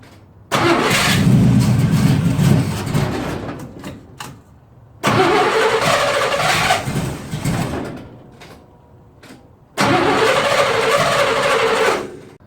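Engine with a Carter/Edelbrock carburetor fed stale E10 ethanol gas cranking without catching: three long, loud starter-motor churns of a few seconds each, separated by short quiet gaps.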